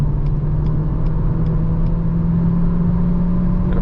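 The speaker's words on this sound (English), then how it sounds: "the car just speeds up nicely" A Renault Clio E-Tech 145 HP full hybrid gains speed on a night drive, giving a steady low engine drone and road rumble from inside the cabin, with faint faint periodic ticks and no voices.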